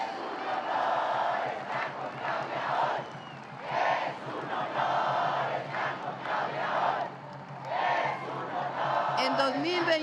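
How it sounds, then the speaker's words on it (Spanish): A large crowd at a political rally in Mexico City's Zócalo cheers, shouts and applauds in rolling swells, a roaring distant mass of voices and clapping that rises and falls, with a brief whistle near the end. "Un aplauso a nuestros diputados y senadores,"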